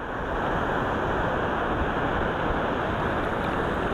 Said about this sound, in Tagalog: Pero doon ang lakas ng alon, no?